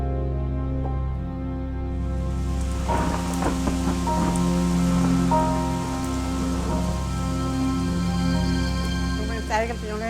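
Steady light rain falling, a dense continuous patter throughout with occasional sharper drops, while a voice speaks over it.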